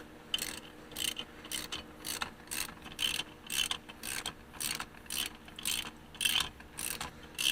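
A chrome 21mm socket on a ratchet clicks in steady, repeated bursts while working on a Ford F550 front wheel hub, the close, crisp pawl ticks coming in a regular rhythm with no talking.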